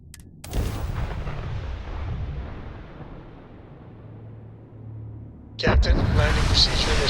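Sci-fi weapon fire in the Starfield space combat video game, a burst of loud gunshot-like blasts opening and closing the stretch with a rumbling low roar between.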